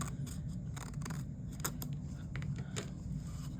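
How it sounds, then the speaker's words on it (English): Scissors trim a piece of card for a small triangle gift box, giving a series of close, crisp snips and crunchy cuts in an irregular rhythm. It is fairly quiet and there is no talking. "I can trim that up now"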